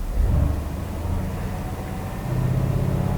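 A 2018 Mercedes-AMG GLC63's deep, rumbling exhaust drones steadily, swelling slightly louder toward the end, heard from inside the car with no talking.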